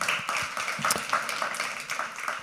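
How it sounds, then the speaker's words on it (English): Audience applause at an evening junior entrepreneur pitch competition: steady, fairly distant clapping from a crowd with no voices over it. "How about another big round of applause for Mayor Michael O'Connor?"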